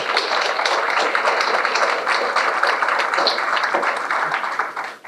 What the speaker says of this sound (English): So I think first round of applause for everybody here.